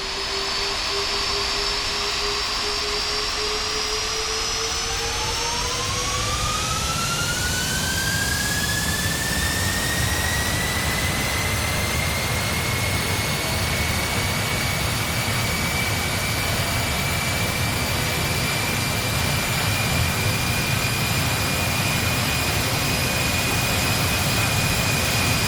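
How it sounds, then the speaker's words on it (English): Exterior of a simulated Boeing 747-400 on its takeoff roll at Sint Maarten: steady, loud jet engine roar with a whine that climbs sharply in pitch as thrust builds, then holds high and constant throughout. "to hear the exterior sounds, let's take a look at this takeoff roll from Sint Maarten"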